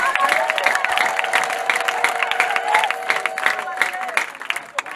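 A church congregation applauds at a prayer service, steady dense clapping with crowd noise throughout, while a voice talks over it.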